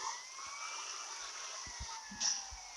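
Police siren in the video game GTA Liberty City Stories, faint and thin, a steady wailing tone with slowly gliding pitch under low background game sounds.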